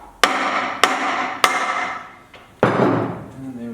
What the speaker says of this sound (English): Trusty soft hammer again so we don't break aluminium bits